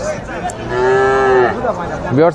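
Indian bullock cattle at Patgram cattle market near the border give a long, loud, close moo, followed by a shorter rising low near the end against faint background crowd noise.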